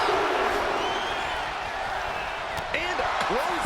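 Wrestling arena crowd in the WWE 2K25 video game, a steady broad roar and murmur of spectators running throughout, with commentary voices talking over it and a few sharp impact slams near the end.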